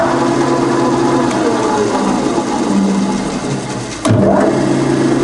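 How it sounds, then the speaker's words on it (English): A Bridgeport milling machine's belt-drive motor runs with a steady, quiet mechanical hum that holds its pitch throughout, broken near the end by a sharp click and a shift to a slightly different tone. "There's the 2 speeds on the motor."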